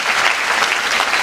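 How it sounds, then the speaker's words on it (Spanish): A festival audience at an Aste Nagusia 2012 show in Abandoibarra, Bilbao, breaks into loud, dense applause that fills the whole short moment without a break. "venga, podéis aplaudir"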